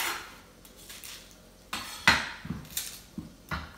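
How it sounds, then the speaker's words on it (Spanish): An onion chopped finely with a knife on a board gives a quiet, sparse series of irregular knocks and taps, about six in a few seconds, with no speech. "Y vamos a picar la cebolla bien picadita."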